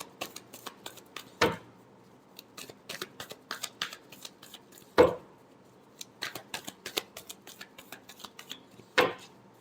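Tarot cards shuffle in a series of quick crisp riffles and flicks, with three sharper snaps standing out at intervals, close and alone without talk.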